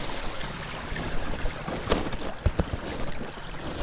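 A brook flows near an off-grid cabin, a steady broadband wash of water with scattered small splashes and clicks, fairly close and continuous, with no talking.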